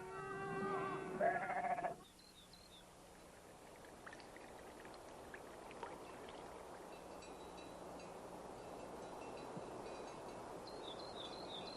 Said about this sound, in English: Sheep have been a part of Navajo life since the 1600s.